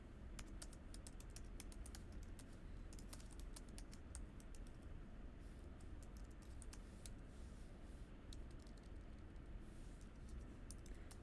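Someone types code on a computer keyboard in a quick, steady patter of light key clicks. The clicking runs continuously throughout at a soft, close level, with no talking.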